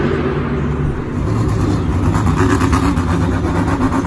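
The Great Clips Mohawk Warrior monster truck engine roars loud and continuous at a Monster Jam arena in Indianapolis, the throttle pulsing in a rhythmic rise and fall over a dense crowd-filled rumble.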